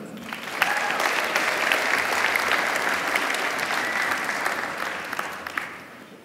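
An audience at a Coastal Carolina University honors convocation applauds its honors graduates in a steady, dense round of clapping that swells quickly and holds for several seconds before tapering.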